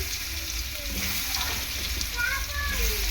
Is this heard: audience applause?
no